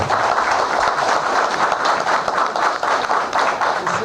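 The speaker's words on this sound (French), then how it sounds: "Je vous demande de l'applaudir s'il vous plaît" At a service handover ceremony at the ministry of sports and youth, a crowd applauds the outgoing minister with continuous, dense clapping at an even level for several seconds.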